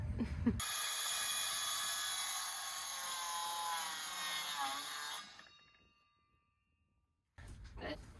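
A wood subfloor panel for an old truck camper being cut with a saw: a loud, steady whining cut for about five seconds that fades out, followed by silence and then brief faint noises.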